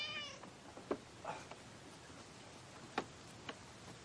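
A cat gives a brief, faint meow at the very start, followed by a few soft, scattered ticking clicks in a quiet room.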